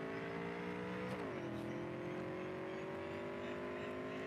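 A car in the video game Cyberpunk 2077 drives with a steady engine drone that dips briefly in pitch as it shifts, then holds an even tone, close and continuous with no talk.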